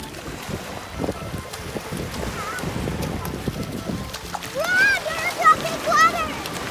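Splashing at a beach as people jump into the water together during an overnight camping trip, with wind buffeting the microphone, voices talking throughout and a few louder splashes toward the end.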